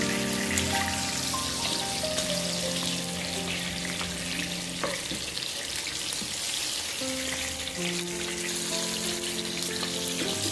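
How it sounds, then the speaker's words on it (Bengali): Rohu fish frying in hot oil for a Bengali fish curry with okra, a steady close sizzle with faint watery crackle running throughout, alone without talk. "আমি মাছটাকে ব্রাউন করে ভেজে নিলাম।"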